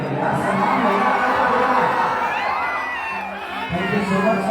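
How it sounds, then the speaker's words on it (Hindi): A crowd at a stage show cheering, whooping and clapping, loud and close, with shouting voices mixed into the steady applause. "एक जोरदार हल्ला करके ताली दीजिए यार"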